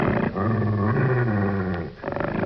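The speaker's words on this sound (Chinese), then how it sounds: "龇牙声，" An angry dog snarls and growls in a deep, rumbling, sustained run that breaks off briefly near the end before a rougher burst, loud and close with no talk.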